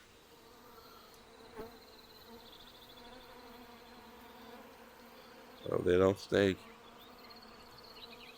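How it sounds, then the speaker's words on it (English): Bees buzz in a VRChat game world, two short loud bursts of droning hum near the end over a faint background, with a person speaking briefly. "Oh no, these look like bees. Definitely look like bees."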